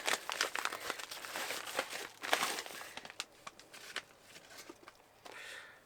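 Packing tape being ripped and peeled off a parcel, with repeated crinkly, crackling tears and rustling bursts close up, in short irregular pulls.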